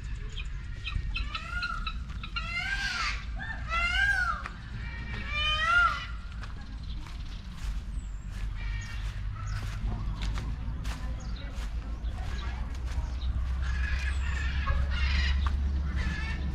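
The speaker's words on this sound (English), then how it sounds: "This is the biggest rooster I've ever seen in my life." A large rooster at a farm milk station gives a series of loud, close, strained crowing and squawking calls early on, then quieter clucks and chirps from other birds over a low rumble.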